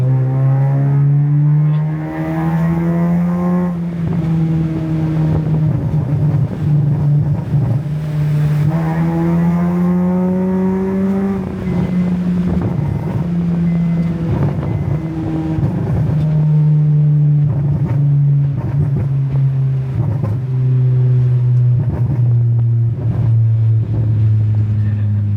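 Honda Civic FD engine on a night drive, a steady droning hum inside the car that rises and falls as it revs up and eases off, continuous and fairly loud.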